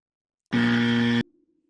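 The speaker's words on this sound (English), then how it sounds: "Your buzzer?" Quiz game buzzer on a home-improvement show: one loud, flat electronic buzz lasting under a second, clean and close, followed by a faint low hum trailing off, with no talking.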